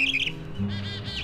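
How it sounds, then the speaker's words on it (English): An American robin sings on a May morning outside a house, a few clear, bright whistled notes up close over a low steady background hum. "we hear the clear notes of the robin, which is actually a member of the thrush family"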